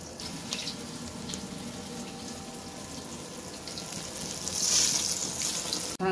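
Lentil fritters (bara) frying in hot oil give a steady, close sizzle and bubbling, rising slightly louder toward the end with no talk over it.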